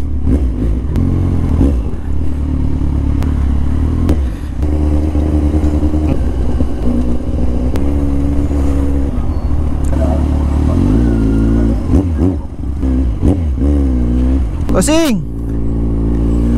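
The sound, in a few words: Yamaha NMAX motorcycle engine noise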